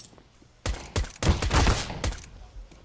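Gunfire in a Counter-Strike match on the Mirage map at an ESL Pro League game: several close, loud volleys of rapid rifle shots in quick bursts after a quiet start.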